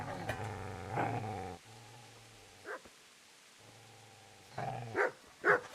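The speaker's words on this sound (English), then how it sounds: "Get away, you mutt!" A dog in a video game growls low and menacingly in drawn-out rumbles, with a few sharp barks in between. The growls come in two long stretches and the barks cut in close and loud.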